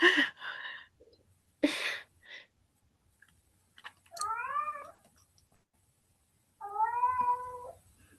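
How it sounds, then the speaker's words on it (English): A cat meows twice, each a wavering, drawn-out call a couple of seconds apart, after a few short sharp noises and soft sounds nearby. "Is that a cat?"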